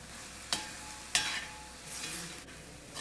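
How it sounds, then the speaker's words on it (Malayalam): Pineapple halwa is stirred as it cooks down and thickens in the pan. A low bubbling simmer runs throughout, broken by a few distinct scraping strokes of the spoon, close and without speech. "നന്നായിട്ട് ഇളക്കി ഇളക്കി നല്ലൊരു റെഡ് കളറാകുന്നതുവരെ നമുക്കിതിങ്ങനെ വരട്ടിയെടുക്കാം"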